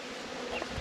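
Honey bee swarm buzzing inside a wall: a dense, steady hum, near and fairly loud, with no voices heard.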